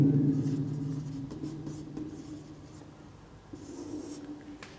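Coordinates being written by hand on paper, a soft steady scratching and tapping of pen or pencil strokes close up, quieting in the middle and picking up again, with no speech.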